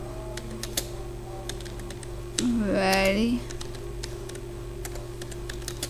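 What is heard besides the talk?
typing on a computer keyboard during a typing test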